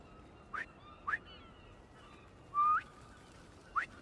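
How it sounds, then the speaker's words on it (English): Four short rising whistles sound in Marvel's Spider-Man 2 video game, spaced irregularly and fairly faint against a quiet background, the third one longer and louder. "Try a whistle."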